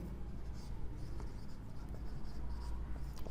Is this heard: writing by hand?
yes